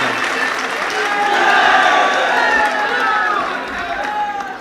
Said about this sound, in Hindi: एक बार जोरदार तालियों से इस्तकबाल करिए